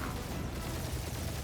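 Sustained gunfire from a firefight in the video game Marvel's Guardians of the Galaxy, a dense broadband burst of rapid shots that fills the short stretch evenly with no pauses.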